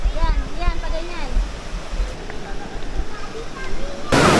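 River water rushes and flows inside a cave near a bridge, giving a continuous broad wash under a person's talking, with a louder surge of water at the very end.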